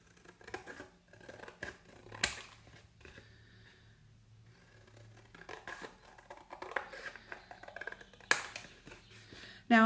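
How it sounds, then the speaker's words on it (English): Scissors snip and rustle through paper in short bursts, close by and fairly quiet, with a few sharper clicks and handling noises between cuts. "And then we'll cut this out, scissors."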